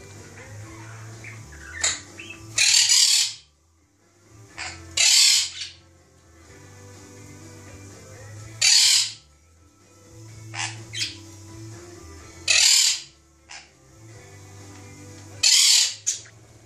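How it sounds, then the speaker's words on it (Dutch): Crow cawing indoors, about six loud, harsh squawks that repeat at irregular intervals of a few seconds, with quieter rustling and low noise between the calls. "Hou eens op, kraai."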